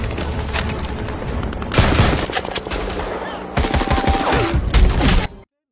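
Heavy battle gunfire with rapid machine-gun bursts and overlapping shots, loud and dense throughout, with booming impacts, ending abruptly.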